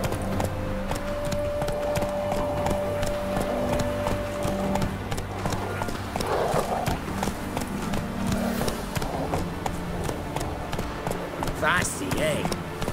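Roach, Geralt's horse in The Witcher game, galloping with a steady rhythmic clip-clop of hooves that runs close and continuous throughout, over low ambient game sound.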